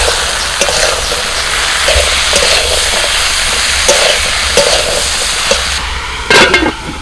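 Chopped greens go into a pan of fried spice paste made with turmeric, chili powder and cumin powder. A steady loud sizzle runs throughout, broken by a few stirring clatters near the end.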